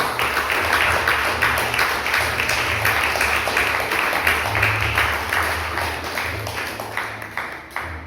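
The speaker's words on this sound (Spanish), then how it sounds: "Denle un fuerte aplauso al Rey de Dios" A church congregation claps steadily, a dense continuous applause with no talk over it, holding for several seconds at moderate loudness.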